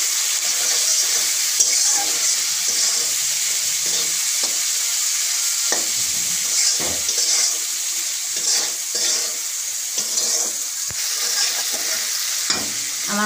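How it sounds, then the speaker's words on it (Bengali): Spices and lentils frying and being stirred in a pan, giving a continuous bright sizzle broken by scattered scraping strokes of a spoon, close and steady throughout. "ভাজা ভাজা করে নেব।"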